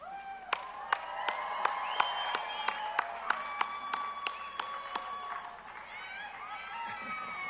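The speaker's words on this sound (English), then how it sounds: "Now pick out your people in their stands and give them a wave, a shout, and a cheer." A graduation crowd in the stands at a U.S. Merchant Marine Academy commencement cheers, whoops and shouts loudly, with whistles and regular sharp claps cutting through the dense roar.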